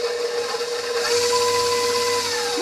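A mixer whirs steadily and evenly through harvest loaf cake batter with added spices, close up, with no talking.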